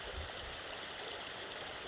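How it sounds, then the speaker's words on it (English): Spring water runs off an autumn hillside in a steady, close babbling stream, continuous and moderately loud with no talking. "So there's places for water to run off this hill all over the place."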